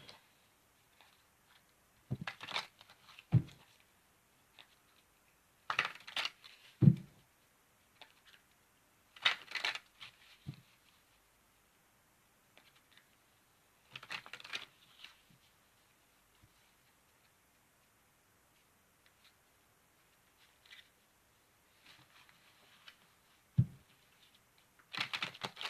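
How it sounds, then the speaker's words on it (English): A deck of cards is shuffled in short, separated bursts of riffling and tapping with long quiet gaps between them, close and faint, with no talk. "Give me a moment while I shuffle."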